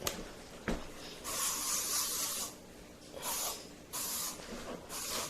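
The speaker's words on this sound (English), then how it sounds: "I'm gonna spray myself with this shit." Bug repellent sprayed onto a person outdoors near creeks and lakes, heard as four close, loud hissing bursts of about a second each with short pauses between them, plus a sharp click before the first burst.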